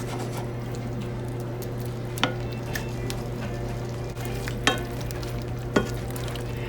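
Chicken pieces sizzle steadily in a frying pan with mushrooms and onions, a constant close hiss and crackle broken by a few sharp pops and stirring clicks, with no voices.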